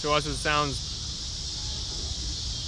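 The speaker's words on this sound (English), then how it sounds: "This is the noise of cicadas." Cicadas humming outdoors, a steady high-pitched droning buzz that runs continuously throughout, with someone speaking briefly at the start over it.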